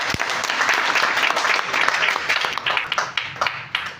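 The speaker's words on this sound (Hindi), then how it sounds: "जोरदार ताली" An audience claps loudly and warmly at a talk on avoiding addiction, a full burst of applause that thins out and fades toward the end.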